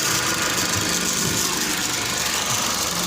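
A Toyota Vios engine idles and misfires, giving a loud, close, continuous rumble with uneven vibration and no voices.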